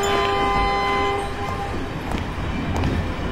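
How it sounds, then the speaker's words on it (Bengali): A train pulls away from a station, its horn sounding a sustained tone before rumbling wheels and carriage clatter take over, fairly loud and close with no voices. "স্টেশনে ঢুকতে ঢুকতেই দেখলো কলকাতার ট্রেনটা ছেড়ে গেল।"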